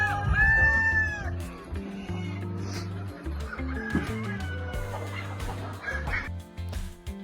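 Desi free-range chickens and a rooster on a farm cluck and call continuously, with quacking-like calls and a crow mixed in, close and fairly loud throughout, with no talking.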